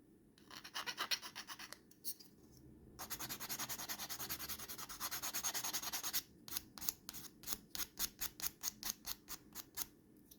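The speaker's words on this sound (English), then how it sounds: "I'm just going around and cleaning up some of these edges with a file." Hand file rasping along the edges of plastic model kit parts, close and fairly quiet: a run of quick scraping strokes, a longer continuous stretch of filing, then a steady series of short, evenly spaced back-and-forth strokes.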